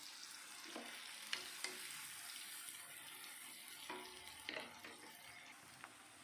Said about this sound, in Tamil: போட்டுட்டு நல்லா மிக்ஸ் பண்ணி விடுங்க. ஆனியன் நல்லா வதங்கி வரணும்.